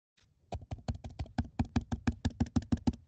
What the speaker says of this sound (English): I don't know why my keyboard isn't working,